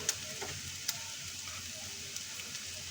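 Crushed garlic and ginger roasting in a pan for mushroom masala, a faint, steady sizzle with a few sharp clicks from stirring, heard alone.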